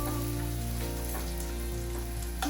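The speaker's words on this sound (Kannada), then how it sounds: "ಈರುಳ್ಳಿನ ಹುರಿಬೇಕು." Onions frying on low heat in a pan for matar paneer give a steady, close sizzle that runs unbroken beneath soft sustained tonal music.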